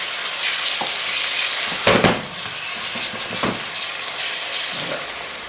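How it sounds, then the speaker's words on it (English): Beef pieces spread across the bottom of a hot pan for a beef giuvech, frying in a loud, steady, broadband sizzle with a few brief clatters of utensils against the pan. "So now I'm gonna add the meat and leave it there without stirring it for 2-3 minutes for it to start cooking."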